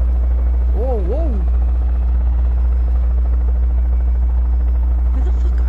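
A helicopter in flight gives a loud, constant low rotor rumble with a steady beating pulse throughout, briefly joined early on by a short wavering voice sound.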